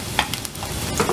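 Finely chopped onions sizzle in hot oil in a pan, giving a soft, steady frying hiss with a few stirring clatters, heard alone without talk.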